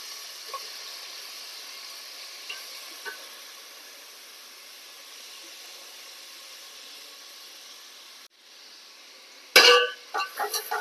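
Chopped onions hit hot coconut oil near the end, a sudden loud sizzle with sputtering bursts after a long stretch of quiet low hiss and faint clinks.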